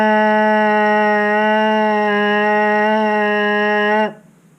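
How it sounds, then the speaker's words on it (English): A lip buzz on a baritone horn mouthpiece: one loud, steady, rich buzzing tone held for about four seconds before cutting off abruptly. "And we're just going to start that buzz with the mouthpiece on our face."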